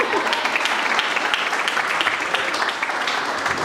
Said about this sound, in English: please give a huge round of applause for my wife and my daughter.